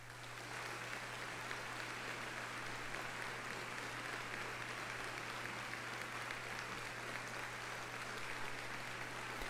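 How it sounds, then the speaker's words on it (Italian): Continuous applause from a QuickBASIC video game after a good score, with dense, even clapping that holds steady throughout, with no voices, sounding like a canned crowd effect. "se si fa un buon punteggio ci sono gli applausi"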